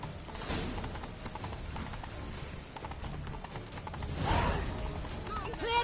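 Horse hooves clip-clop at a run in The Witcher 3, a steady galloping rhythm under game music and background clamor, with voices talking over it.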